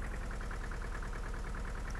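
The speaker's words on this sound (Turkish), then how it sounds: "var ya çok eski bir traktör" A very old tractor idles in Farming Simulator 2013, its low engine chugging in a steady, rapid pulsing rhythm that stays loud and constant throughout, with no talking over it.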